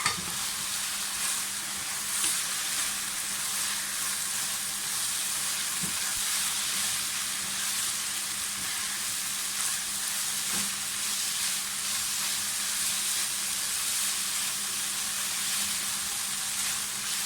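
Vegetables stir-frying for chicken fried rice, kept crisp, in a hot pan, with a steady, loud, continuous sizzle and a faint low hum underneath, no talking.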